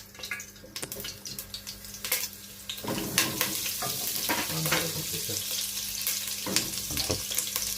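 Butter and a little oil sizzle in a pot as the base for a fish and shrimp soup, a close, steady frying hiss with scattered spoon scrapes and clinks.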